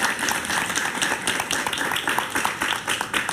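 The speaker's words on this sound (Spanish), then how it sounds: "Un aplauso para él, por favor." Studio audience applauding a guest on a talk show, a dense continuous patter of many hands clapping, loud and close.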